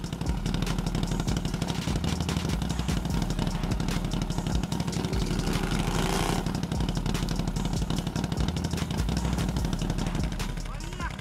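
A quad bike engine drones and revs steadily while towing another stuck quad, a BRP Renegade XMR 1000, with constant rough mechanical clatter throughout and faint talk beneath it.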